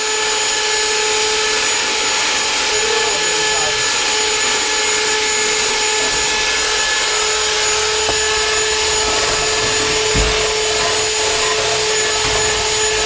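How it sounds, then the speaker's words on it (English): An electric mixer runs steadily at high speed beating Swiss roll batter, a loud continuous whir filling the kitchen with a constant motor drone throughout. "This mixer smells like it wants to die."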